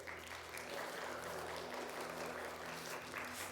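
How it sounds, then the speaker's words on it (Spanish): A church congregation claps steadily through a worship service, a dense even burst of applause with a low hum or music beneath, no speech over it. "dale un aplauso"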